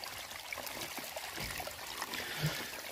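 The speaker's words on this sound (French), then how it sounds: "Je vais le remplir d'eau." Water trickles and splashes steadily as it is poured into a tub, a continuous close stream with gurgling and a few louder splashes, no voices.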